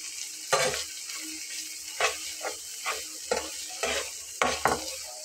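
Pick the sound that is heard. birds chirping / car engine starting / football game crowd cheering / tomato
tomato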